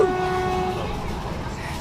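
Inside a passenger train in Poland, a steady low rumble of the carriage fills the space, with a brief tonal horn-like whine at the start that fades after under a second.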